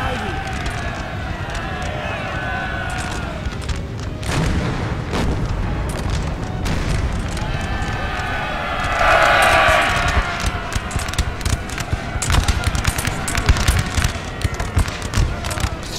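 Massed musket and artillery fire from army units in a Napoleonic 1815 campaign strategy game, scattered booms and crackling volleys over a continuous battle din, with a voice talking throughout.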